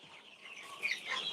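Soft, distant clucking of Egyptian Fayoumi farm chickens, faint and brief against a quiet background.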